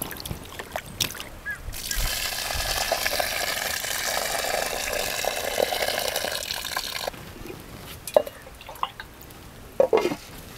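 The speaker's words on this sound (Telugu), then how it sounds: "చేప మొక్కలను శుభ్రంగా కడుక్కోవాలి" Pomfret fish pieces are washed under running tap water, a steady splashing stream for several seconds, then scattered drips and light handling noises.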